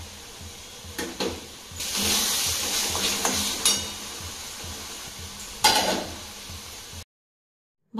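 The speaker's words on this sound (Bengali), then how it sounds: "কড়াইয়ে সর্ষের তেল দিয়ে দিচ্ছি, তেলটা গরম হয়ে মশলাটা ছাড়বে" Spice paste hitting hot mustard oil in a wok, with bursts of sizzling and scraping stirs rising and falling over about seven seconds, close and moderately loud, then a brief silence at the end.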